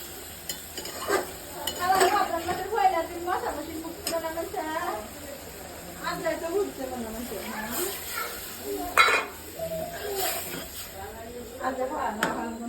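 Tangra fish curry with beans and potatoes is stirred and sautéed in a pot in a village kitchen. It makes a soft scraping and sizzling in uneven strokes under a voice talking close by.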